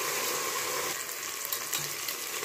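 Tomatoes fry with onions in a pan, a steady dense sizzle and bubbling crackle holding level throughout with no voices.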